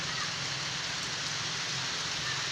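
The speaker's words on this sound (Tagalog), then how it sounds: "ang guys umulan makulimlim na" Steady rain falling under an overcast sky, a continuous dense hiss of drops on surfaces, close and even throughout with no break.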